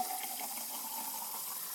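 Tap water runs from a faucet in a steady, faint, hissing stream that continues evenly throughout, with no voices.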